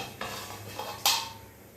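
A lid set down on a pot of simmering fish curry gives one bright metallic clank near the end, after a few softer clinks of kitchenware over a faint simmer.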